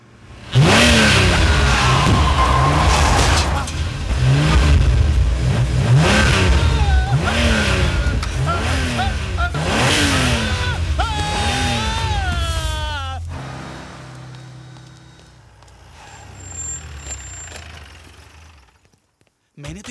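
A cartoon car engine revs repeatedly in rising and falling surges, loud and close, then fades as the car drives away, with speech mixed in.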